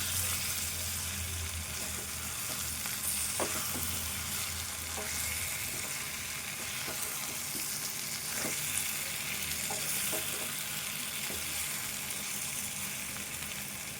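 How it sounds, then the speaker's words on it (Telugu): Potato fry with coriander cooking in a pan: a steady, close sizzle throughout with a few light scraping stirs and clicks, no talking over it. "ఈ కొత్తిమీర కూడా కొద్దిసేపు ఈ కూరతో పాటు ఫ్రై కావాలి"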